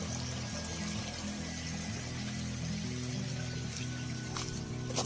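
River water rushes steadily and loudly at close range in a main river in Uttarakhand, a continuous broadband wash that carries on without pause and has no voices over it.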